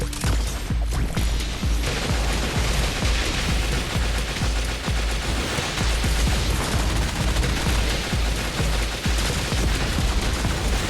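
Rapid machine gun fire from the Metal Slug: Awakening video game rattles continuously, with dense overlapping shots, booms and game effects filling the whole stretch at a steady loud level.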